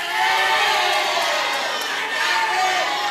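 Supporters of the number 3 candidate pair applauding and cheering at a public regency head election debate in Inhu, a loud, dense crowd of clapping and shouting that holds steady throughout.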